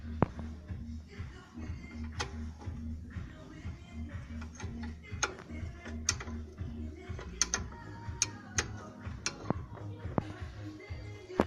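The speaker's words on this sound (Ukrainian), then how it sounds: "Відкручуємо так само верхній болт і нижній," A 14 mm wrench turns the brake caliper bolts on a Hyundai Santa Fe, giving quiet, irregular metallic ticks and clicks over a low hum.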